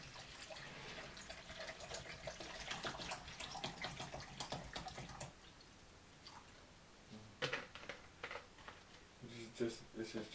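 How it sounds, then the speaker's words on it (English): Mayhems distilled water pours into a PC water cooling loop with Bitspower fittings in a HAF X case, a steady broadband splashing trickle that changes partway through and turns patchy and intermittent, with people talking over it. "let's put a bit of water in here."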